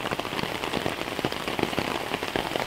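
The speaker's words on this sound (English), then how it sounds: "It's raining pretty good" Steady rain falls outdoors near a barbecue, a dense, continuous patter of drops on surfaces, fairly loud and even throughout with no voices.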